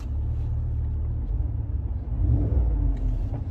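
Chevy Tahoe engine heard from inside the cabin as the gas is pressed lightly, a low steady rumble that swells slightly toward the end.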